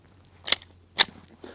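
Two sharp, close reports from an IWI Masada S 9mm pistol fired at a target outdoors, about half a second apart, each brief and cracking, followed by a fainter click, with no talk.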